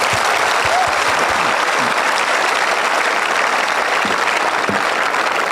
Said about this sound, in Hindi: आप सब आ खातर एक बार तालियां बजाई दो।